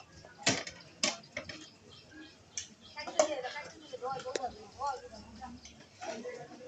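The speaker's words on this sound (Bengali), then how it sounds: "এই যে পাশে চলতেছে প্লেট ধোয়ার যজ্ঞ" Plates are washed for a huge feast for 3,000 people, with scattered clinks and clatters of dishes and cutlery, some sharp and close. People talk throughout.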